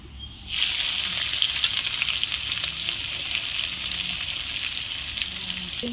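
Onion hits hot oil with cumin in a pan for a mutton dish, setting off a sudden loud sizzle that holds steady and strong for several seconds with faint crackling.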